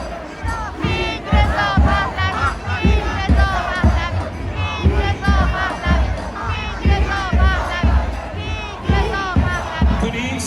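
A large crowd of Iranians chants in unison in support of Reza Pahlavi, loud rhythmic shouted phrases repeating steadily with many voices together.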